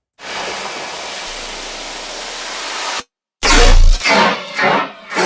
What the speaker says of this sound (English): It's just a regular white noise riser that comes in and sweeps